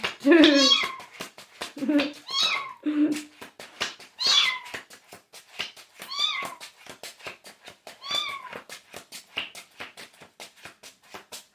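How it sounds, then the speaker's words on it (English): A cat meows repeatedly, several drawn-out, plaintive calls close by, spaced with short pauses and faint clicks in between. "I gave this kitty everything it wanted."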